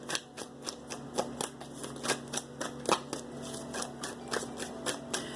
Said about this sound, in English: Let me shuffle these again because I feel like I need to.